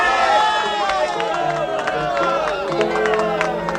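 A crowd gathering around a minstrel in a radio drama scene, with a steady murmur of many voices, bustling movement and scattered claps and cheers, fairly close and continuous.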